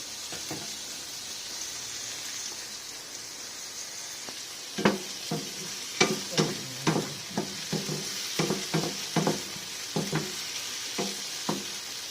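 Eggplant sautéing in a pan with fish sauce, a steady low sizzle broken by a run of sharp clinks and scrapes from stirring, close and fairly loud, with no talking.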